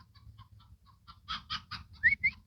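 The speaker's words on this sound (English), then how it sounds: "Oh, here comes a chicken." A hen clucks close by, soft low clucks building into a few louder, sharper calls.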